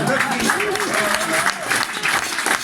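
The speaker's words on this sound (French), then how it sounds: "Applaudissons le Christ alors" A congregation applauds during a French-language Christian prayer gathering, a dense, sustained clapping at a close, loud level with voices mixed in underneath.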